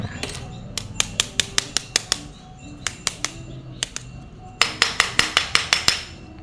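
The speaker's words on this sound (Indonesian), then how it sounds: "Tinggal sediakan palu untuk getok-getok seperti ini." A hammer taps on a transformer core during disassembly, giving sharp, close metallic knocks in quick irregular runs, then a fast steady burst of about eight blows at the end.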